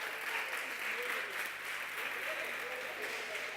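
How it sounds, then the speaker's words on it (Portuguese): A church youth gathering breaks into dense, continuous applause for a participant, a lively wash of many hands clapping at steady volume, with some voices mixed in underneath. "Palmas pro Joel, palmas pro Joel."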